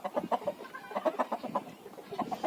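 Backyard chickens cluck in quick, irregular bursts, a fairly close but quiet run of short clucks with no talk over them.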